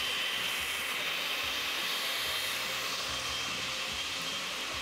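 A loud, continuous whirring roar of a blender with its lid removed runs unbroken from start to finish, close and steady, with no voices.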